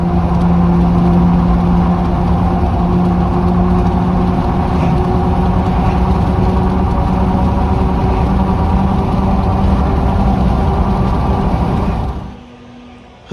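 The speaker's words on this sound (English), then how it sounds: "I'll put a snippet in here of how the wheel hubs actually sound, the roaring of the truck" GMC/Chevy 1500 pickup truck with worn wheel hubs driving down the road, a loud, continuous droning roar from the cab that holds steady for about twelve seconds and then drops away abruptly to quiet.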